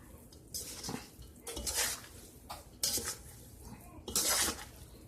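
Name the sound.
stirring noodles in a pot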